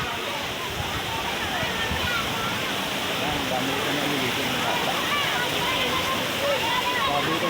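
Tubog waterfall roars with dense, continuous rushing and splashing water, loud and close throughout, and a voice speaks faintly beneath the torrent.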